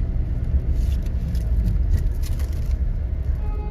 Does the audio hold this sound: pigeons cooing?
no